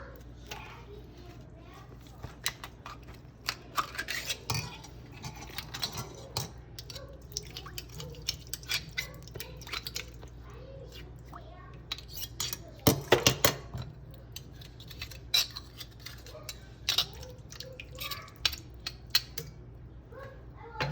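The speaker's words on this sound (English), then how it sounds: "I just shucked 2 dozen clams" Fresh clams being shucked in a kitchen: irregular sharp clicks and scraping taps of a knife against shells, wet drips and small splashes, with a person speaking intermittently nearby.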